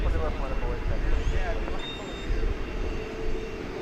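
An American Boeing 777-200 widebody at DFW airport gives off a distant jet roar heard outdoors, rumbling steadily with slight swells, while people talk over it.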